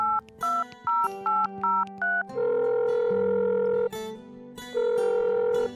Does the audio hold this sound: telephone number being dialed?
yes